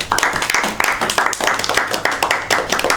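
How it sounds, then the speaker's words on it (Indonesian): A classroom group claps for a student after a geography microteaching presentation, a short burst of fairly close, rhythmic clapping from a small number of hands, with speech mixed in. "Tepuk tangan dulu dong buat Toha."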